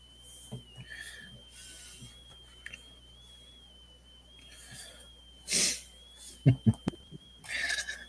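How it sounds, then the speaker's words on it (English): A thin, steady high whistle runs through nearly the whole stretch as someone breathes through their nose close to a microphone, with a few louder sniffing and snorting bursts near the end. "There's a whistling noise on the mic."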